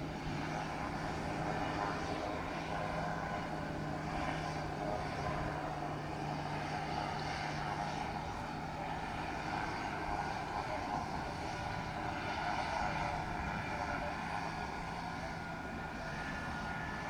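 Heavy aircraft takeoff run on runway 07 at a Jamaican airport, a steady broadband jet roar with a low engine drone, held fairly constant and distant-to-mid range throughout, with no talk over it.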